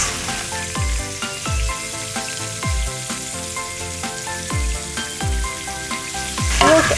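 Prawns with a crispy coating, dusted with Szechuan pepper powder, sizzle loudly in a hot wok, a continuous frying hiss punctuated by repeated metallic clanks and thumps as they are tossed.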